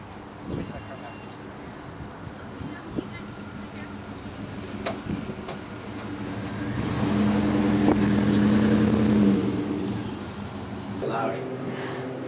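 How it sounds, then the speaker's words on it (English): A car passes on a street, its engine and tire noise swelling and fading over about half a minute of steady background rumble, with people talking nearby. "Let's wait till that car passes."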